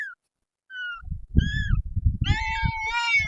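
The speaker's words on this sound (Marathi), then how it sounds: "आणि हे या मांजराचे पिल्लू आहे." A tiny kitten, only about fifteen days old with its eyes newly opened, gives several high, thin meows close by. Soft rustling and handling noise sits under the calls, with short pauses between them.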